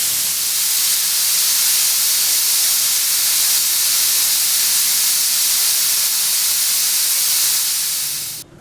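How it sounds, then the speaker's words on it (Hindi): A pressure cooker vents steam in one loud, steady, unbroken hiss after its whistle is lifted, close and constant for about eight seconds before cutting off abruptly. "कुकर की सीटी को उठाकर सारी गैस खाली कर देंगे"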